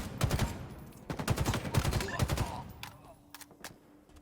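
Rapid bursts of gunfire from a Halo match in a European Halo League esports game, dense clustered shots in the first half thinning to scattered, fainter pops, with a commentator's voice faintly underneath.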